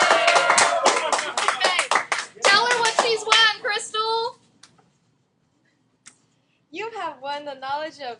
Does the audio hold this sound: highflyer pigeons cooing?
no